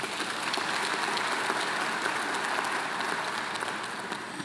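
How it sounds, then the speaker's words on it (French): A large audience at an official political gathering applauds in a loud, sustained roar of clapping. It holds steady for several seconds and thins only a little near the end, with no speech over it. "Je voudrais que nous puissions les applaudir."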